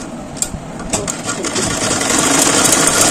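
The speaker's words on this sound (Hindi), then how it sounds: "गले से गला अटैच करने के बाद हम यहाँ लगा लेते हैं सिलाई दोनों पर।" A sewing machine stitches a blouse neckline, running steadily and close with a whirring, rapid rhythm that grows a bit louder and denser toward the end.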